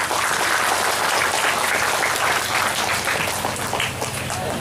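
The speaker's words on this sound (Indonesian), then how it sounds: "Tepuk tangan untuk Darul Lima" Sustained applause from an audience at a parenting seminar held at an Islamic boarding school in Palembang, a steady dense wash of clapping that stays loud throughout with no pause.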